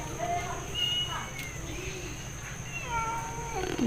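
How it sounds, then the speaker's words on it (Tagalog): Pet cats meow repeatedly indoors, wanting to be let outside, their calls rising over a steady background hum while someone speaks to them. "So, ayan nga ang mga pusa ko, si July, si Abby"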